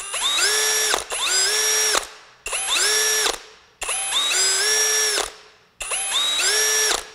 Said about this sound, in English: So it's got a step trigger to it. That's the only downside to it, but it's a drill